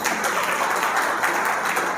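Audience applause at a spiritual talk in Bilaspur, a steady wash of many hands clapping together, fairly loud and continuous throughout with no voices on top.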